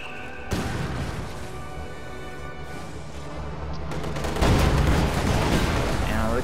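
Continuous rumbling gunfire and thudding mortar blasts in a WWII strategy game battle with Panzer Grenadiers, Shermans and Soviet tanks, a dense steady barrage that swells louder toward the end.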